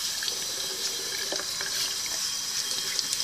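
Tap water runs steadily into a sink while an aquarium filter's charcoal bag is rinsed under it, a continuous close splashing hiss with small irregular drips.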